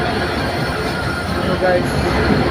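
The Nilsagar passenger train, on the Saidpur–Chilahati route, rumbles steadily nearby with a continuous low roar and faint rail squeal, loud and unbroken throughout.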